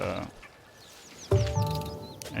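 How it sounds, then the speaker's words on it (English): Chirping birds over a soft, steady river wash in the mountain biking game Lonely Mountain Downhill, with no music; a louder burst of rushing water and bright chirps comes in partway through. "We can hear the river. We can hear the birds"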